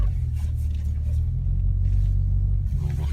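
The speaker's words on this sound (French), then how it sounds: "On va reculer le véhicule à sa place." A vehicle idles and creeps backward into its parking spot at an event, giving a low, steady engine rumble at moderate distance with faint voices in the background.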